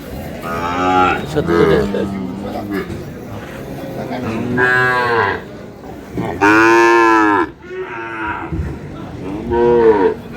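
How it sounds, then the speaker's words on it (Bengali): Sahiwal bull calves moo several times in loud, close calls at a cattle market, with a few voices in the background between them. "তো মমিন ভাই, আপনি এখন গরু দেখাবেন সুন্দরভাবে।"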